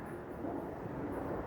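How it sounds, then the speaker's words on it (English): A dull, continuous rumble of a subway train rolling into a westbound platform at a Toronto station, broad and steady, heard from a short distance with no talking. "it sounds like there's a train that just rolled in that I missed"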